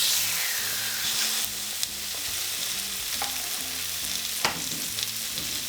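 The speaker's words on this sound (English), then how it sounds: "we're going to start browning it in the pan." Chicken pieces brown in a pre-warmed hot pan, a few at a time, for a Greek chicken and vegetables dish. A loud, continuous sizzle runs throughout with occasional sharp crackles and pops.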